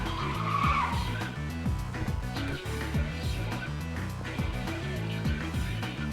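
Car tires skid and squeal in the Yakuza 3 video game, a loud sustained screech over a dense, throbbing layer of engine and game sound.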